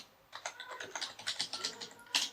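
Quick, light keystrokes on a computer keyboard as text is typed into a trading terminal, an irregular run of close clicks ending in a sharper tap.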